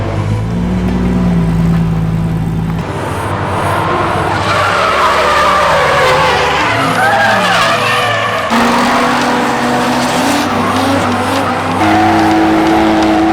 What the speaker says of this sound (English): this is my first time out drifting